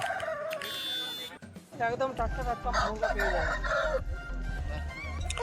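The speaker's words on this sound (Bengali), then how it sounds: "দেখো এখন বাক্স খুলে জাস্ট মোরগগুলো নিয়ে নেওয়া হচ্ছে" Roosters brought from Tamil Nadu crow and cluck loudly at a busy poultry market in Balarampur as crates are opened, several birds calling over each other close by, amid crowd chatter and people talking.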